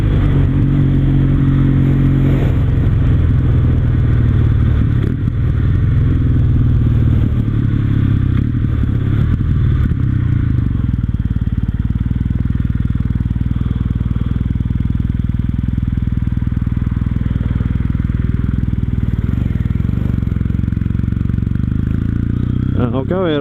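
A Kawasaki W800 cafe racer motorcycle engine heard while riding, a loud, continuous low rumble with steady wind noise and no clear revving changes.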